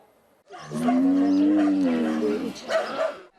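One cow moos loudly and steadily for nearly two seconds in a village, followed by quieter rough calls from the herd of half-wild, unmilked cattle.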